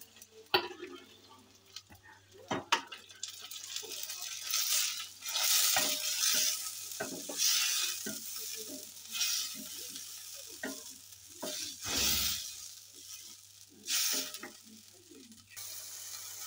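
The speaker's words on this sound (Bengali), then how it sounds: "পেঁয়াজ লাল লাল হয়ে গেছে, এবার আমি মশলা করে রেখেছিলাম দিয়ে দিলাম।" Onions and spice paste fry and get stirred in a pan, with a steady sizzle broken by scraping stirs and occasional clacks of a spoon against the pan, close and fairly loud throughout.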